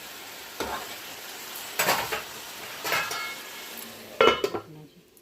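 Mushrooms are stirred in a frying pan with a utensil, giving four separate scraping, clinking strokes against the pan over a soft sizzle.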